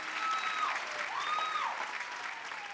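A comedy show audience claps steadily for an incoming comedian, a soft, even wash of applause under a faint whistle or feedback tone.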